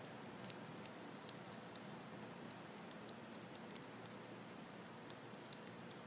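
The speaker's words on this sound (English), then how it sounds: "Still raining insanely." Heavy rain pours steadily outside during a June thunderstorm, a dense even hiss with scattered sharper drips and patters, heard close and alone.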